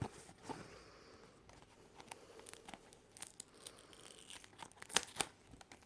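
Wrapping paper torn and crinkled while opening a ribboned package, with soft rustling punctuated by sharp, close tearing rips, louder near the end.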